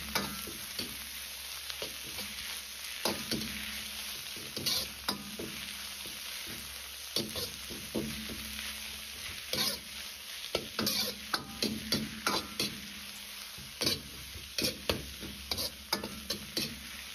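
Squeezed-dry spinach stir-fried in a wok with carrot, scallion and garlic, a loud continuous sizzle with frequent scraping and tossing strokes of the spatula throughout.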